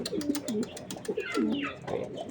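Racing pigeon cooing close by in a series of low, rolling, throaty coos that come in quick succession.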